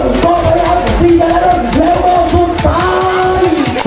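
Loud crowd at a Thai longboat race in Lang Suan, Chumphon, with cheer teams shouting and chanting in steady rhythmic bursts, a dense, continuous roar of many voices close by.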